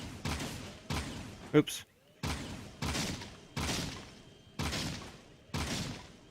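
Gunfire in Jak and Daxter lands as six loud, evenly spaced blasts about a second apart, each a booming burst with a decaying tail, with a brief spoken exclamation between shots.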